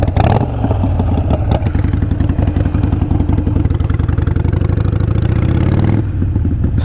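A motorcycle with a weak battery runs loud and close just after a hard start, its engine holding a steady rumbling idle with some rising revs and mechanical clatter, with no talking.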